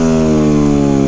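A Yamaha WR250X motorcycle engine held at steady high revs during a wheelie, a loud, close, continuous buzzing drone with a strong even pitch and no break.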